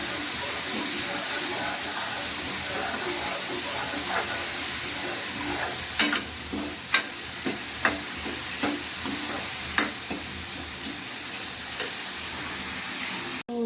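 Chopped vegetables with tomatoes fry in a pan, a constant close sizzle and hiss with a run of sharp spoon scrapes and clacks from stirring in the later part.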